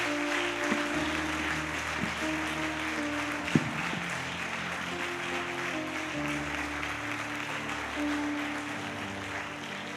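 A church congregation applauding to acclaim the Lord during a service, sustained clapping with a sharp clap burst near the middle and a low organ-like tone beneath.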